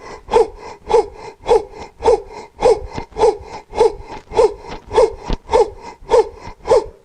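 Rhythmic sharp breaths during a breathing exercise, about a dozen forceful inhale-exhale bursts at a steady, roughly half-second-spaced pace, close and loud with no talk.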